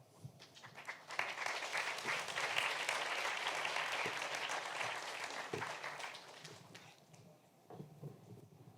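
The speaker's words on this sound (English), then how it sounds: "applause to each of these amazing panelists that I'm going to introduce now" Audience applause for panelists taking the stage at a French Tech women-in-business event. Many hands clap in a sustained, even roar that builds quickly, holds for several seconds, then thins out to scattered claps.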